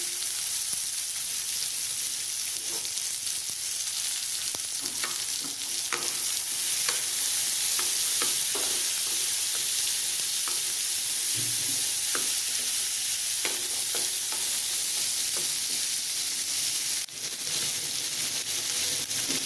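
Boiled black chickpeas being stirred and fried in a pan, a steady hiss of sizzling oil with repeated scraping stirs and soft clacks, close and alone.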